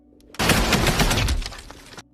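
Battle gunfire from a World War II war film: a sudden loud burst of rapid shots and blasts erupts after a quiet start, with dense overlapping reports that gradually thin out and fade.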